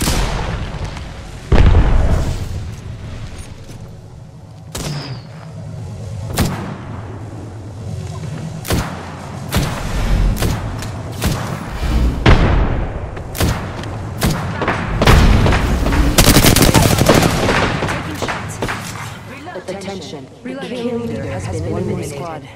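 A match of Apex Legends is full of loud gunshots and booming explosions, with repeated sharp cracks and heavy blasts scattered irregularly throughout and a dense barrage in the middle, while players talk over the action.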